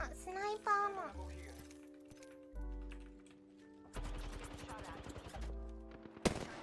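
Apex Legends gunfire crackles in rapid bursts from a low-ground position, mixed with game sounds and a voice talking early on, all at a low level.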